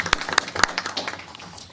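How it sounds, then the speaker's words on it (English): Scattered applause comes from a few people at a board of governors meeting, heard as sharp, uneven claps that fade into a quiet room. "We're clapping."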